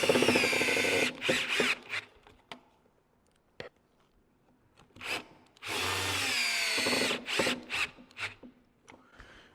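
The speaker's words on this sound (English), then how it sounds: "So take 2 of my screws. It's a number 2 square drive." A power drill drives two number 2 square-drive screws into walnut sideboard parts, two clear whirring bursts of driving, close and loud, with short handling knocks and pauses between them.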